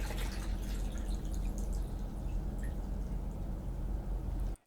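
Liquid is poured steadily into a food container or drinking glass, a continuous close splashing rush that runs alone for several seconds and then stops abruptly.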